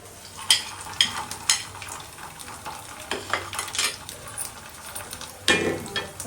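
Vegetables frying in oil with spices and ginger for khichuri, giving a steady sizzle punctuated by sharp stirring scrapes and clinks of a utensil against the pot at close range.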